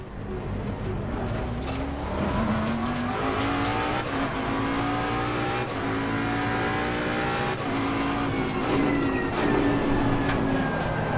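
A race car engine in the video game Assetto Corsa Competizione revs and drops through gear changes, with rising and falling whines and occasional tire squeal, loud and close.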